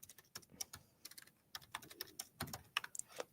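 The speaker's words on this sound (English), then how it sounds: "and I'll start typing" Rapid bursts of typing on a computer keyboard, with uneven clusters of crisp key clicks close by and no voices.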